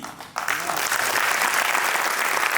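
Crowd applause at a political rally in Nashik, starting after a brief quieter moment and swelling into steady, dense clapping that fills the space and holds loud to the end.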